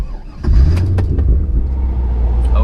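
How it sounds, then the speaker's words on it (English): A big C5 Corvette V8 engine fires up after a brief pause, roaring to life with a deep rumble, then settles into a loud, throbbing idle nearby. "let's get this thing out on the road and have you hear this big V8"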